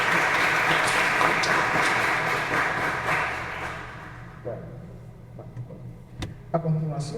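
Audience applause at a university ceremony in Puerto Rico, moderate clapping that fades over several seconds into scattered claps, shuffling and a voice beginning to speak.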